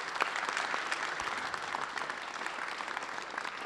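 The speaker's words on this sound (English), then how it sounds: "can we just have a special round of applause for those who are online?" Applause from an in-person audience at a community event marking 50 years of New Zealand–Mexico diplomatic relations, a steady wash of many hands clapping, soft and somewhat distant, with no talking.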